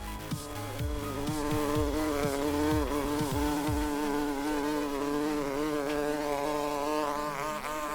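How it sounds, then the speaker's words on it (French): Bees buzzing continuously at a spring flower spot, a steady droning hum with shifting pitch, fairly close and alone without talk, with a few low thumping bumps in the first half. "Bon, je retourne voir les abeilles."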